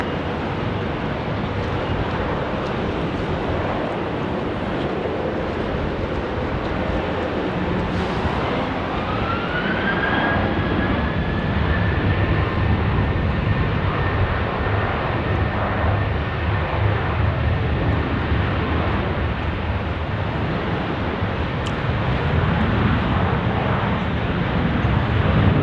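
A Qantas airliner taking off from Sydney Airport runway 16 right: a distant, steady jet engine roar building in the open, with a rising whine that settles into a sustained tone as the aircraft accelerates away.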